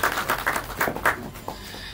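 Scattered audience clapping at a film song launch press meet, welcoming a guest who plays the halage drum. Brief uneven claps sound through the room for about two seconds.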